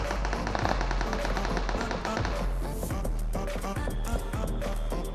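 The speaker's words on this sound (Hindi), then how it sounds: "तो एक ग्रेनेड निकाल के फेंकते हैं कि शायद कोई बंदा नॉक हो जाए" A grenade thrown and bursting in a PUBG-style battle game, heard as loud, dense crackling and rapid tapping bursts filling the whole stretch without a pause, with no talk.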